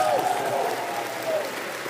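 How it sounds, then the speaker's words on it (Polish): A festival crowd at Pol'and'Rock 2018 applauds warmly, a short burst of dense clapping with a voice calling out over it. "Wielkie brawa jeszcze raz dla nich"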